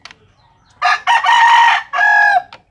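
An imported rooster crows nearby, one loud, clear crow in several drawn-out segments after a short cluck, with no voices over it.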